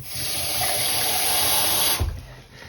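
Tap water runs into a container to rinse out 0.15 grams of Dharma purple pop acid dye. A close, steady gush lasts about two seconds, then cuts off abruptly.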